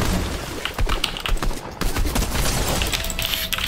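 Rapid automatic gunfire bursts in a first-person shooter video game, dense crackling shots fired in quick succession, loud and continuous with no voice over them.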